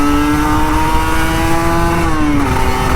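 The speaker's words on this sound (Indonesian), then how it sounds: "kita gas Ninja RR bro" A Kawasaki Ninja RR 150 two-stroke motorcycle revs up close and loud, its engine note rising and holding in a strong, continuous rasp, then dropping slightly near the end.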